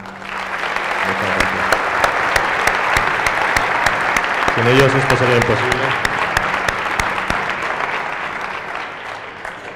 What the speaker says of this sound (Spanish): Aquí tenéis un fuerte aplauso también para ellos, por favor.